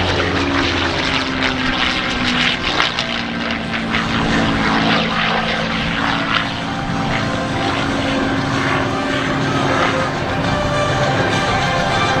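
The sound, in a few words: Merlin V12 piston aircraft engine howl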